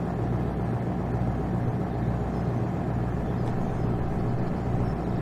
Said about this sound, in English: Yeah, I love this Chevy truck.